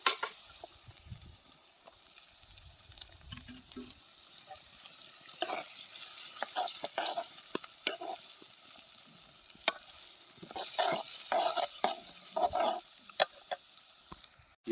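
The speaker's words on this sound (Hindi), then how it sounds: "ये जिंजर और गार्लिक हमारा ब्राउन हो चुका है और अब हम इसमें डालने जा रहे हैं ओनियन।" Chopped onion frying in a pan with browned ginger and garlic, a quiet sizzle broken by bursts of stirring and scraping that grow busier toward the end, no voices.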